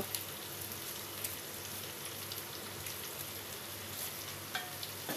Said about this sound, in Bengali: এবার মশলাটা আমি একটু আগুন বাড়িয়ে 30 সেকেন্ডের মতন একটু ভেজে নেব